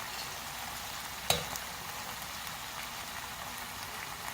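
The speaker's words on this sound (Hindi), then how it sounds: "प्याज और आलू को हमने मीडियम फ्लेम पर फ्राई कर लिया है।" Onion, potatoes and tomato fry in a pan over medium flame, giving a soft steady sizzle with one brief clatter partway through.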